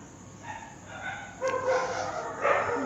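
A dog barks and yips at night, several short high barks and whimpering calls spaced across a few seconds, moderately near over a hissy background.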